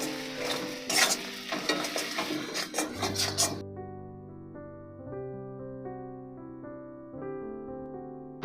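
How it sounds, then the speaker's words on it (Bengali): Dry spices such as salt, turmeric and Kashmiri chili powder being stirred together in a bowl for a prawn curry, a scraping, rubbing mix in the opening seconds that gives way to steady tonal background music. "সব মশলাগুলো একসঙ্গে সুন্দর করে মিশিয়ে নেব"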